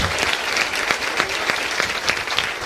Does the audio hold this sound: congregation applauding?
yes